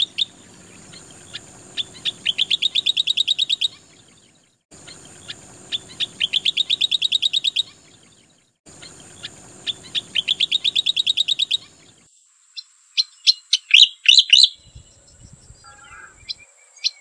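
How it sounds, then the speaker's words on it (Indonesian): Cicak koreng, a large relative of the ciblek, sings in three bursts of rapid high trills with short gaps between them, then gives a few scattered sharp chirps near and alone. "Dan berikut ini adalah contoh suara dari burung cicak koreng."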